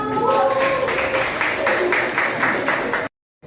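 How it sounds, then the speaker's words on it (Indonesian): An audience clapping for a group about to present in a classroom, a brief burst of rhythmic applause under a speaking voice, stopping abruptly into silence. "Ayo silakan aplaus untuk kelompok 1."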